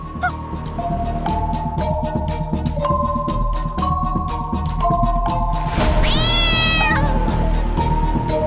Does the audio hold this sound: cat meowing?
yes